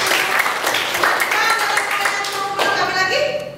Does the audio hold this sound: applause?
yes